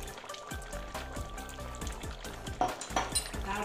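Ghee sizzling and frying in a pan of Bengali jackfruit curry (echor kalia), a steady close crackle with soft stirring and scraping clinks throughout, no voices.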